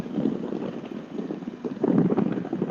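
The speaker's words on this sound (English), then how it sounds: "Sounds windy there." Gusty wind rumbles against the microphone, rising and falling in low, buffeting waves close by.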